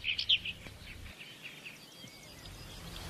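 Birds singing in the Chernobyl exclusion zone: a few sharp, fairly close chirps open, followed by fainter, scattered calls and song over a quiet outdoor background with no talking.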